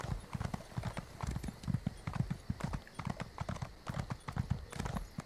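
In The Elder Scrolls Online, a ridden horse's hooves beat out a quick, steady clip-clop rhythm, soft and continuous with no other sounds over it.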